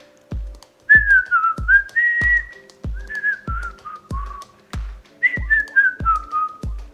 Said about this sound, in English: when I'm in a good mood, yeah, I can whistle.